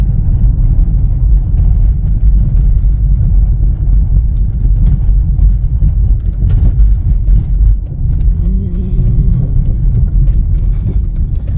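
A car engine runs steadily while the car parks in a parking space, a loud, close, low rumble that holds through with slight dips in revs, with no talking.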